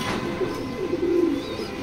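A grizzle racer pigeon coos nearby in a loft, a short run of low, throaty burbling calls that swells slightly toward the middle, with no talking.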